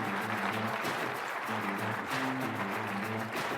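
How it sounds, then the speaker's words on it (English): Conference audience applauding as an executive is welcomed to the stage, steady dense clapping throughout, fairly close and continuous. "Please, big round of applause."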